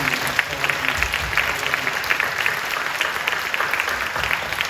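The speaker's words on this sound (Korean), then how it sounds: "특별히 대학 청년들 축복하고 사랑하며 박수 한번 해주시죠." A church congregation at a university and young adults' service claps together in steady, sustained applause, a dense wash of many hands filling the room at a fairly even level from start to finish.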